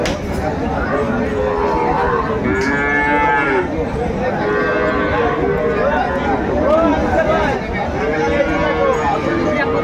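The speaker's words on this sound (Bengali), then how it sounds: "শাহিওয়াল গাভী বাছুর আমরা দেখছিলাম।" Sahiwal cows and calves at a village cattle market in Dinajpur, several moos rising one after another over a constant crowd hubbub, with people talking nearby throughout.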